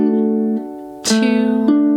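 A ukulele plays a strumming pattern, holding sustained chords close and clear, with a louder, brighter strum near the middle and another near the end, and no voice.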